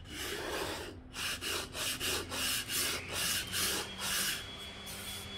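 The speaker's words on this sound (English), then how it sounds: "I take my sandpaper and my sanding block" Rhythmic sanding of a wooden pencil box from a craft kit, about ten steady back-and-forth rasping strokes with sandpaper on a block, close and fairly loud.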